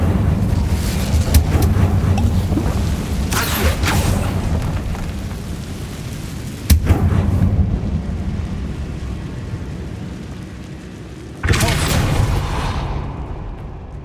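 Incendio fire spell cast in Hogwarts Legacy, a sudden whooshing burst of flame with a deep boom, amid other game effects and a voice speaking.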